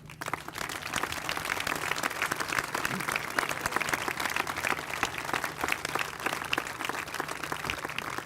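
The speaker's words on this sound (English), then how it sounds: "Let's give a round of applause from the Dixie Flyers to Don Graham." Crowd applause at the Ford Ice Center ribbon cutting, honoring a figure from the town's first professional hockey team, heard as a broad, continuous roar of many clapping hands, moderately distant and steady throughout.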